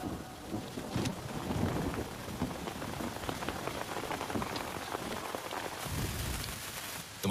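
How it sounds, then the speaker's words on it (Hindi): Steady, heavy rain pours down continuously, a dense hiss of drops hitting surfaces, with a louder surge near the end. "हाँ यहाँ पर बारिश हो रही है"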